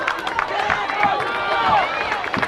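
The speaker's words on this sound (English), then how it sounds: "There's some noise from the crowd." Crowd at a high school football game, Upper Cape side, roaring and cheering before a third-and-short play, a loud sustained babble of many voices with a few sharper shouts and claps close by.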